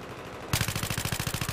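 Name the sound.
G18 pistol gunfire in video game Battlefield 3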